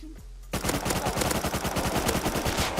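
Rapid automatic gunfire in the survival video game Rust, a loud sustained burst of evenly spaced shots starting abruptly after a brief quiet moment and running to the end.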